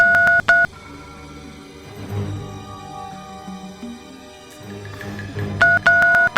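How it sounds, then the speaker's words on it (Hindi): Telephone keypad tones beep in short bursts at the start and end, with a dull stretch of low background noise between them. "रुकिए, मैं उसे फोन लगा के देखती हूँ।"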